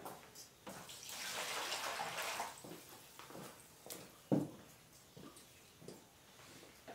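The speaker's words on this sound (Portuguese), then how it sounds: "Vou começar pondo a água." Water is poured into a container to make liquid soap, a soft, quiet splashing stream that swells and fades, with a few light knocks and handling noises close by.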